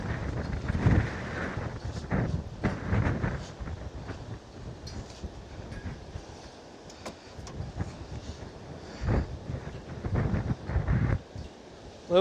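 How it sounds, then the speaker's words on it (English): Gusty wind buffets the microphone during a bike ride through Ponta Delgada in the Azores, producing loud irregular low rumbles and blasts that rise and fall over a steady background of street noise. "It's very windy."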